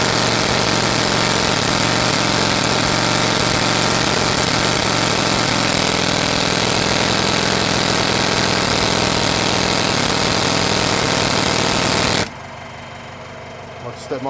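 An old 1970s air compressor runs loud and steady with a rhythmic mechanical chugging and a slight shift in tone partway through, then cuts off abruptly near the end, leaving a quiet room.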